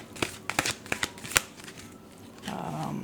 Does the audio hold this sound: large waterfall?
no